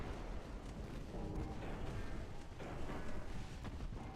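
Battleship 13-inch naval guns fire in the Ultimate Admiral Dreadnoughts warship game, heard as distant, muffled booming rumbles that roll on continuously at low volume.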